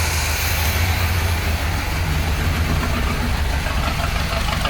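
Engine of a 1972 Corvette recovered after being abandoned in a field, idling steadily with a constant low rumble and dense mechanical noise throughout, loud and close with no talking.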